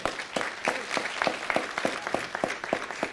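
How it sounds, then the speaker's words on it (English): A small audience at a city council meeting gives a round of applause, sparse and fairly close, with distinct individual claps in an uneven rhythm. "give them a nice round of applause."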